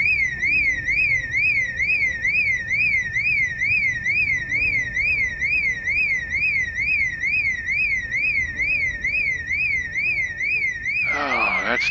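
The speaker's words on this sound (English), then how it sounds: "The problem with these alarms is every direction is unsafe." A car alarm in the zombie survival game Project Zomboid blares loud and steady, its siren warbling up and down in a rapid regular cycle for the whole stretch, ending in a brief burst of noise.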